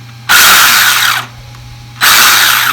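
A rebuilt Traxxas X-Maxx 8S RC monster truck with a new ESC and motor whines loudly at close range in two high-pitched bursts separated by a short pause, with no talking.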